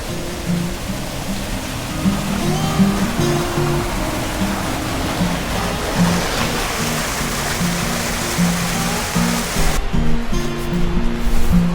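Wide water cascades pour over natural barriers into clear ponds at the Plitvice upper lakes, a steady broadband rush of falling water close by and unbroken throughout, with a low hum underneath.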